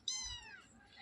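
A Persian cat gives a single short, soft meow, close and faint, with no other sound around it.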